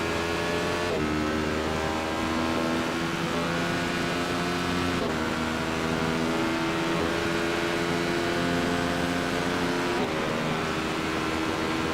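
Radical race car engine heard in-car at Interlagos, a loud continuous drone that holds steady through the whole stretch, with brief dips and shifts as the driver changes gear, no voices.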